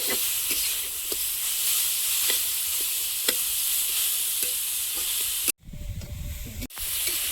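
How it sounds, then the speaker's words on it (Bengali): Carrots sizzling and frying in hot ghee for carrot halwa, with steady hiss and periodic stirring scrapes, then a brief pause and a louder burst of frying sizzle near the end. "ঘি একটু হালকা নেড়ে চেড়ে নিয়েছি।"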